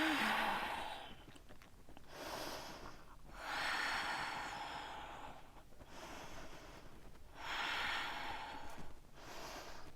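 Slow, deep breathing during a slow-flow yoga pose, close-up inhales and long exhales repeating in an even rhythm, soft and unhurried with no talking.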